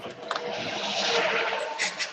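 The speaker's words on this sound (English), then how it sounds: "Who's got all the traffic noise?" Traffic noise of cars passing on a road, a broad continuous whoosh with slight swells, moderately loud and without clear talk.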